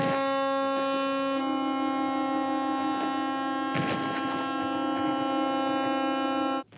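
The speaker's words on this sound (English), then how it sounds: "the alarm sirens at Westerplatte rang out" Alarm sirens at Westerplatte in Poland sound at dawn to mark the start of World War II, a steady droning wail held for several seconds with a faint distant clatter partway through.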